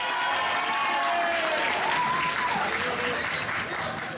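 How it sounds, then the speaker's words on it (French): Crowd of visitors at Parc Astérix theme park applauding as two technicians return during a ride breakdown, sustained clapping with cheers and a few whistles, moderately loud. "Les 2 techniciens reviennent sous les applaudissements."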